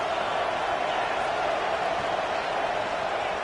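A stadium crowd roars steadily in an NCAA college football video game, a dense, constant wash of cheering with no breaks.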